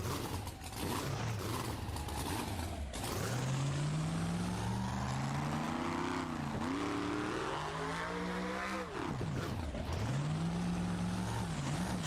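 A monster truck engine revs hard during a car crush competition, climbing and dropping in repeated loud surges as the truck backs up and charges again, with no talking.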